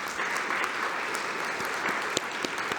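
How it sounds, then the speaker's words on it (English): Steady, dense audience applause fills a hall at a mental health education conference, a continuous wash of clapping with a few sharper individual claps standing out. "That was some more applause, I bet, for Lori"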